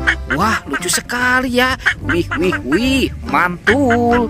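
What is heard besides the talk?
duck or goose quacking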